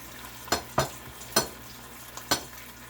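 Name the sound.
chicken and shrimp fajitas with onions cooking down in a pan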